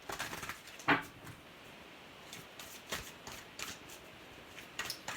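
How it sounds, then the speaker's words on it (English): Love Oracle cards being shuffled by hand: quiet, uneven bursts of riffling and soft card slaps, one sharper snap near the start, with no talking. "I'm going to pull some cards from the Myra's Oracle, Love Oracle cards"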